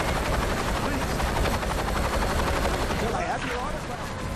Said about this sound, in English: I'll just keep using the helicopter